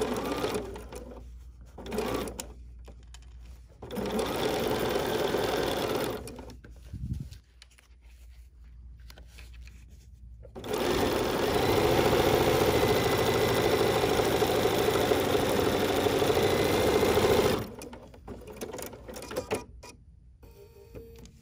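A sewing machine stitches an embroidery sampler block in two long, loud runs of steady mechanical whirring, separated by short stops and quieter handling of fabric.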